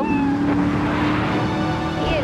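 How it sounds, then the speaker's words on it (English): Cat meowing in the video game Grand Theft Auto III, a few rising and falling meows close up over a steady hum of traffic and engine noise, with a short squeal near the end. "Rescue a cat out of that tree with your banana cannon, Pogo."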